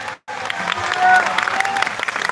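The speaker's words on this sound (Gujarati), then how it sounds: "બધા તાળીઓ પાડીને વધાવો" Crowd applauding at a temple celebration honouring the goddess Shakti, a dense burst of clapping that swells briefly and stays steady after a short gap, with the crowd murmuring underneath.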